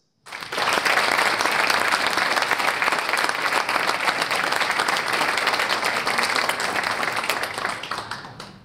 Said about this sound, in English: Congratulations and a big round of applause